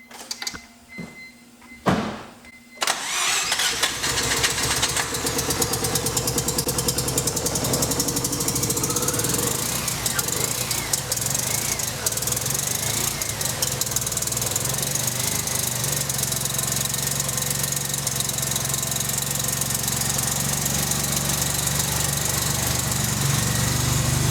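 A Mazda RX-7 FD rotary engine, after a blown turbo, starts for the first time: it cranks briefly, then catches and roars into a loud, steady idle that drones on without a break.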